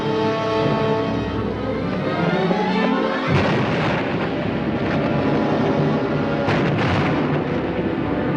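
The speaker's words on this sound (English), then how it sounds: "Dynamite." Dynamite explodes at an oil well in a 1953 film, giving a loud, sustained roar with a low rumble throughout and sharper blasts and bursts of debris partway through.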